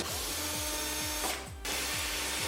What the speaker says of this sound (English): So let's just undo the hose clamps first.